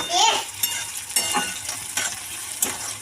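Onions fry in a pan with a soft continuous sizzle while a utensil scrapes and stirs in several short strokes, close up.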